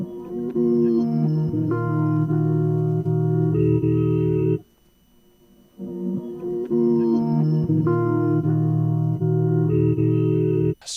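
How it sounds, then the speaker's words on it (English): A haunting, piano-like sampled texture, reversed, pitched up an octave and washed in delay, plays as sustained swelling tonal chords in two phrases separated by a brief near-silent gap. "It's just such a beautifully haunting sounding, almost like piano sound."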